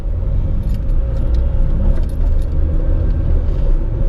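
A car driving along a road as it overtakes a cyclist, with a steady, close engine and tyre rumble that holds even throughout and no talking.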